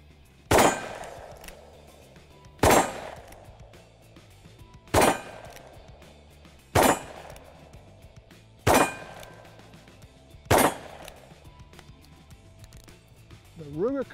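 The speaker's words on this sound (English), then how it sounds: "Great single action revolver, shooting light recoiling .45 ACP loads." Ruger Blackhawk single-action revolver firing light-recoiling .45 ACP loads: six loud, evenly spaced shots roughly two seconds apart, each with a ringing tail, over a steady background hum.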